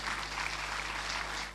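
Sustained audience applause fills a hall at a cultural finale gala, steady and dense throughout, with no voices rising above it.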